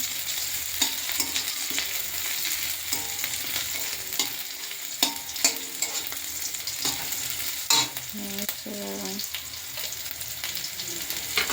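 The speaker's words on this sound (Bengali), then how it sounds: "পেঁয়াজটা ভাজা ভাজা হয়ে গেছে" Onions fry in a pan with a steady, close sizzle, broken by scraping stirs and clinks of a spoon throughout.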